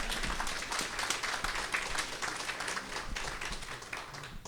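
Audience clapping at a legislative day event on aging, a fairly quiet but continuous mass of hands sounding somewhat distant and even throughout.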